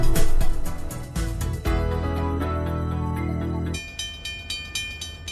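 A train rumbles past at a rail crossing, a loud rhythmic clatter with a sustained horn-like tone in the middle, then continuing lighter clacking as it moves on.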